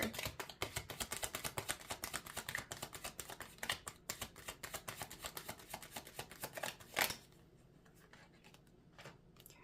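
Tarot cards are shuffled in a rapid, dense patter of light flicks for about seven seconds, ending in a single soft thump, then near silence; faint and close.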